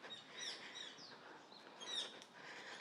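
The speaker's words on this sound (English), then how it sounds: "There's a bird making a point there." A bird calls in short, high chirping bursts on a quiet residential street in Tanjong Katong, Singapore, with steady soft outdoor ambience underneath.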